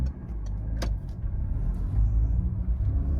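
A Peugeot 308 VTi 120 pulls away from a roundabout, heard from inside as a steady low engine rumble and road noise under the cabin, with no talk.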